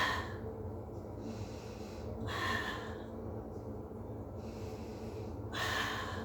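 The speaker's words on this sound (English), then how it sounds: "stay here, breathe" Deep breaths during a Pilates exercise with a bender ball, slow audible inhales and exhales through the nose and mouth, close to the mic, repeating in a steady rhythm over a low background hum.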